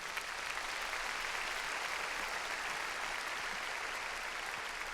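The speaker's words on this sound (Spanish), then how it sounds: "Dele palmas al Señor." A church congregation at a Sunday service claps together in a dense, even wash of applause that holds steady throughout, heard from some distance in a reverberant hall.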